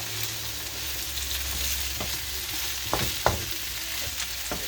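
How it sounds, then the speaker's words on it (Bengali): Fish fries in a pan in a home kitchen with a steady close sizzle, marked by a few sharp pops and stirring clicks near the end. No voices are heard. "এই যে ভাজিটা মোটামুটি হয়ে গেছে আর আর পাঁচ মিনিট লাগবো"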